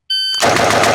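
A single AR rifle shot fired at a steel target on a range, a sharp loud crack that follows a brief electronic beep tone, with no talking.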